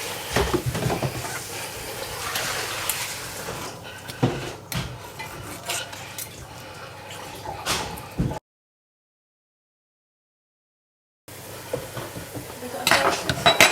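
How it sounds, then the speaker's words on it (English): A knife slices marinated, cooked steak for Crying Tiger beef into thin strips, giving close scraping, tapping and clinking against a board and dishes, with a few seconds of complete silence midway. "we're going to take a piece of the steak that we've marinated and cooked, and we're just going to slice it now really thinly"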